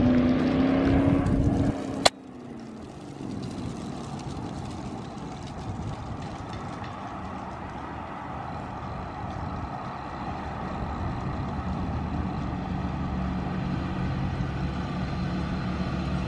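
A brightly colored car approaches from a distance after taking a turn, its engine a steady low rumble that builds slowly while a sharp click cuts in early on.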